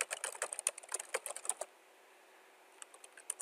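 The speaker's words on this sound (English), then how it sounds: "type in my question" Fast, close clicking from a computer keyboard as a question is typed in a quick burst, then a pause before a few final keystrokes.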